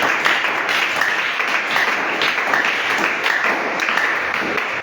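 A church congregation applauds and cheers for the Lord during a French-language Branham Tabernacle sermon, a dense, steady wash of many hands clapping that fills the whole stretch at close range and full volume.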